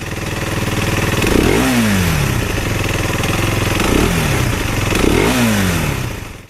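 A Derbi Mulhacen Cafe 125cc motorcycle engine runs steadily and loud, revving up three times with rising pitch swoops over a rough, clattering idle.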